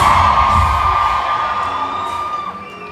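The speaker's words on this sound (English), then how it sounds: "Mike Coco, now scream." A pop concert crowd at SeaWorld Orlando screams and cheers loudly and continuously for a few seconds, a dense wall of high-pitched shrieks that fades slightly toward the end.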